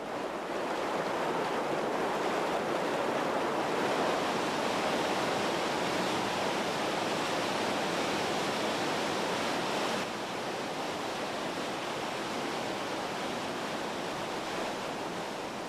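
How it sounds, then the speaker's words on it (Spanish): Roaring waterfall in Norway, a broad, steady rush of falling water that stays dense and unbroken throughout, slightly softer in the final seconds, with no voices. "las cataratas han encontrado un país perfecto: Noruega"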